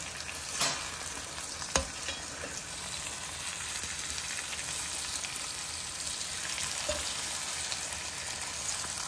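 Prawns frying in hot oil in a pan, a dense, even crackling sizzle that holds steady throughout, with a couple of brief knocks near the start, close and uninterrupted by speech.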